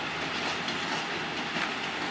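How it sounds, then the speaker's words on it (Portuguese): An old freight train of 1990s locomotive and 1970s ballast wagons rolls past in the rain at Rolândia, a steady loud rumble and clatter of wagons with rain hiss and no voices. "Olhem só que trem bonito, antigo."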